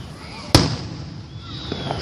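A single sharp Fourth of July firework burst cracks loudly, then fades into a rumbling tail with faint distant pops afterward.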